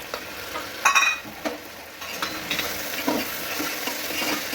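Masala being stirred into rice frying in ghee, with a soft steady sizzle and a few clear scraping strokes of the spoon, one louder cluster early on, all close and without talk.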